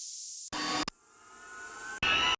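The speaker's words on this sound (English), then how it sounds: "this white section is just white noise" Bursts of bright white noise layered into action hybrid trailer music, broad hissing blocks that switch on and off abruptly between sustained tonal drones.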